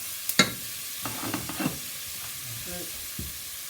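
Finely diced shallots and garlic sauté in olive oil and butter for moules marinière, a soft steady sizzle broken by a few scraping spatula knocks and stirring sounds up close.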